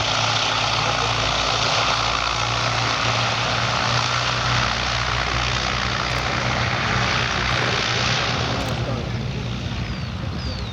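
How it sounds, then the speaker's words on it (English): Twin propeller engines of a Bristol Blenheim, a fighter variant of the short-nosed Mark I bomber, drone steadily and loudly at close range while it taxis onto the runway at an air show, a continuous throbbing roar. "Blenheim then taking the runway."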